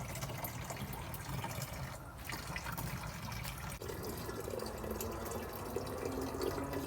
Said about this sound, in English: You're filling up the can?